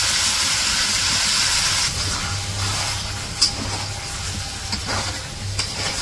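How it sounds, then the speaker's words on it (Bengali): Magur catfish sautés with spices and taro corms in a hot pan, a continuous close sizzle and hiss with a soft stir or two. No one speaks. "মশলা কষিয়ে মাছ তো কষাইতেছে। এখন কচুর মুখি গুলো দিয়ে দিতেছে"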